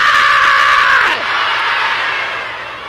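A church congregation at an anniversary service lets out a loud sustained scream and roar that drops abruptly, then continues as a noisier crowd wash.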